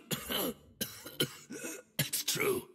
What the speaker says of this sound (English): Fednir nods, coughs, and then clears his throat with a gurgling retch.